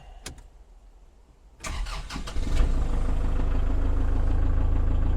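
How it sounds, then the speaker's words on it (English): After a few clicks and clunks, a Kubota L4060 tractor's diesel engine cranks and catches, then settles into a loud, steady idle rumble. "Start the tractor."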